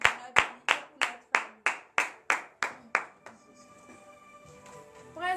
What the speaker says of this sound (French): nous allons nous lever et donner de vives acclamations à notre Dieu